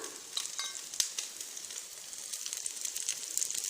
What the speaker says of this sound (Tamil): நெய் விட்டுடலாம்.